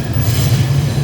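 A Tokyo Yamanote Line train rolls past close by with a steady, loud low rumble and rushing noise filling the whole moment, no voices.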